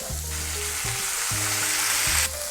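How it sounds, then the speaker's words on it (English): Asparagus sautéing in a pan, a loud steady sizzle close up, with a low tonal hum underneath and a short scrape of stirring near the end, no speech. "I'm gonna saute those asparagus for a couple of minutes."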